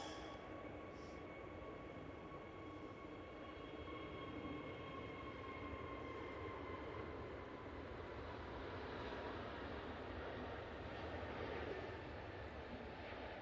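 A Jet2 airliner on its takeoff roll at Manchester Airport produces a steady, sustained engine roar with held whining tones. It stays at an even level throughout, heard from a distance, with no voices.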